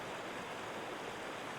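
A recorded river plays back as a steady, constant rush of flowing water, broad and even in loudness throughout, with no voices.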